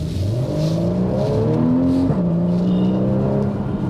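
Porsche engine revving hard as the car pulls away, a loud, continuous rising drone with climbing harmonic pitch that dips briefly mid-shift before building again, with no talking.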